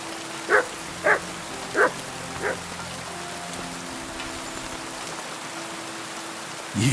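A dog barks four times in Kingdom Come Deliverance II, sharp evenly spaced barks at moderate distance over a steady patter of rain, with a faint tonal background underneath.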